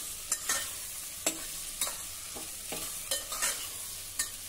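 Mixed vegetables sautéing in a pan for masale bhat, a soft continuous sizzle punctuated by repeated distinct scrapes and taps of a spatula stirring, with no voices.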